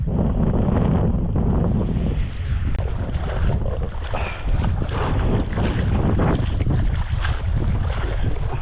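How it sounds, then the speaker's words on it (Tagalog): Strong wind buffets the microphone continuously on a fishing boat at sea, a loud low roar with gusts, over the churn of the boat engine and water; no one speaks. "Lakas sa hangin."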